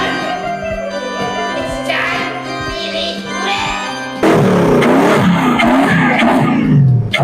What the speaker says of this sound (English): Man, I can't believe Japanese cars sound like this.